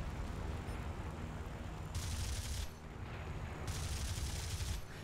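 Sustained gunfire in the War Thunder combat game, a steady dense roar of shots with two bursts of harsh, brighter crackling, loud throughout with no talk over it.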